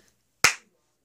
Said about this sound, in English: clap your hands in a steady beat and count one number on each clap